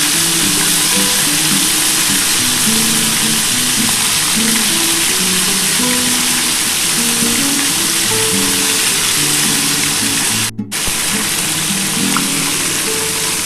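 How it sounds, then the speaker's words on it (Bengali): Large pomfret fish pieces fry in hot oil, a loud, dense, continuous sizzle with crackling bubbling throughout and a brief dip near the end. "আগে মাছগুলো ভেজে নিই বন্ধুরা"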